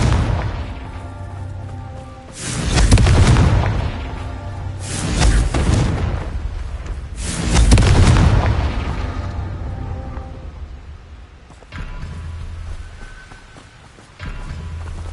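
Confringo blasting spells go off in a Harry Potter video game, three heavy booming explosions a few seconds apart, each with a long rumbling tail, loud and close, with no talking between them.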